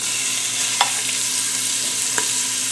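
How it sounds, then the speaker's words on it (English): Finely diced chicken sizzles steadily in a hot pan for chicken fried rice, a constant bright frying hiss with a couple of short stirring clicks, close and alone. "you want to keep hearing that sizzle. That means it's nice and hot in there."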